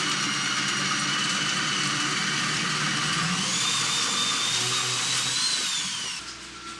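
A power drill bores through wood studs with a loud, steady high-pitched whine and a grinding bite that holds for several seconds, the pitch shifting slightly as it cuts, before the motor winds down and stops.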